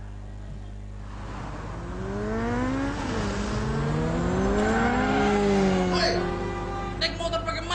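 A motor vehicle passes along a street in Makassar, its engine whine rising and shifting pitch as it approaches and goes by, loud and steady over a low background hum.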